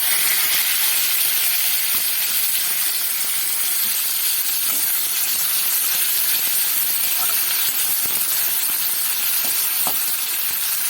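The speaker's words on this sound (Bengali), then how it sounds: "পাঁচফোড়নটা ভাজা ভাজা করে নেবার পর দিয়ে দেবো আমি পেঁয়াজ কুচি আর কাঁচা লঙ্কা।" Chopped onion and green chilli sizzle steadily in hot oil with panch phoron, a dense, even frying hiss that stays loud and close throughout with occasional stirring clicks and no talk.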